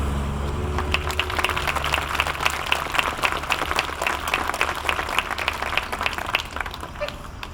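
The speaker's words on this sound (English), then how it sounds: "Let's give them a super round of applause." An audience at a school event claps after two speeches, a continuous round of many hands in a room with a low hum underneath, holding an even level throughout without any speech.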